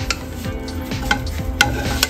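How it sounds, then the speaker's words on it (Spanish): Spanish potato omelette sizzling as it goes back into a frying pan, a steady close crackle of frying with a few sharper scrapes and knocks of utensil against pan, no talking. "La ponemos en el sartén."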